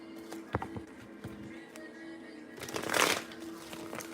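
Lightseer tarot cards being shuffled by hand indoors, a soft papery riffle with light taps at first, then a denser, louder burst of shuffling toward the end, close and alone without talk.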